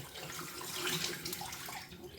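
Tap water runs steadily into a sink, a close, rushing splash that swells slightly midway and continues throughout.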